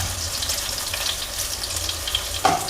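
Chana dal and coriander seeds roast dry in a pan for a green chilli chutney, giving a steady soft crackling hiss with a brief louder clatter near the end; no one speaks.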